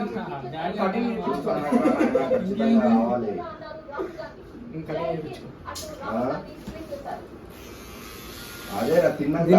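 An electric hair trimmer buzzes near the end, a steady high whine following and partly under lively talk and laughter between people indoors.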